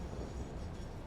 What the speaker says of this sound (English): Oh, that's a train car.